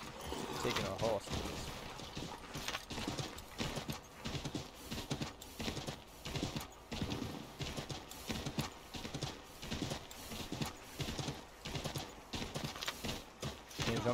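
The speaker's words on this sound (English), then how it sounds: "Taking a horse." Horse hooves gallop in a steady, rapid clip-clop rhythm in Assassin's Creed III Remastered, loud and continuous throughout, with game music or effects layered underneath.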